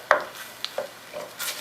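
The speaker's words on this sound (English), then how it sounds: "We'll just keep stirring it so your garlic doesn't burn" A few scattered, quiet clinks and scrapes of a utensil stirring garlic, basil and Italian seasoning in a pan, with soft sizzling in between and no voices.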